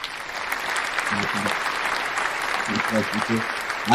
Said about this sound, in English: We might give you a little clap for that.